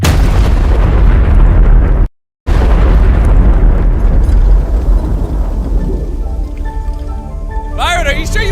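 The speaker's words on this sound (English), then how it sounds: "Using our last bit of spare fuel, the pyrotechnics quickly re-rigged the bomb." A fuel bomb rigged by pyrotechnics goes off in a huge, sustained roaring blast that rumbles on for several seconds and slowly fades, with a brief cut partway through and a rising whistle-like tone near the end.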